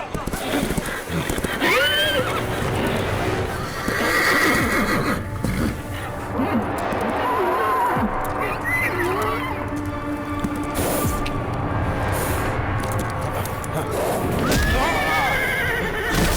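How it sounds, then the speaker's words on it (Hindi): An agitated horse neighs and whinnies several times amid clip-clopping hooves and a busy action scene, with people talking loudly over the commotion throughout. "पहले जाके अपने बेकाबू हुए घोड़े को कंट्रोल करो।"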